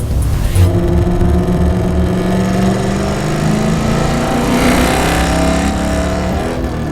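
A race car engine revving loud and close with the transmission slipping out of third gear, a sustained droning roar with shifting pitch that swells and eases over several seconds.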